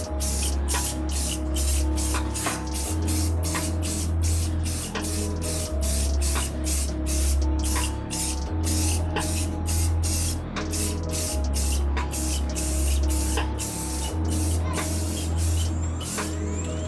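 Rust-Oleum spray paint sprayed from a can in a long run of short, rhythmic hissing bursts, loud and close, repeating steadily over a low motor hum.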